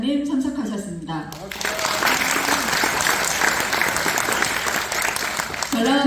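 Audience applause welcomes guests at a Korean community political gathering, a broad steady wash of clapping that follows a brief announcement and continues for several seconds before speech returns at the end.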